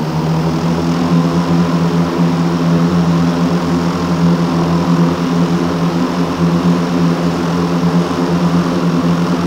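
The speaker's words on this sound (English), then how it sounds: "Automatic takeoff procedure initiated." A Lift Aircraft Hexa VTOL drone in Microsoft Flight Simulator 2020 lifts off with a loud, steady multi-rotor hum and droning engine tone that holds constant throughout, with no voices.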